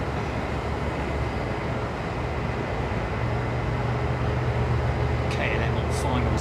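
A KLM airliner on final approach to Miami International Airport, heard as a steady, broad distant roar that holds throughout, with faint higher whines near the end.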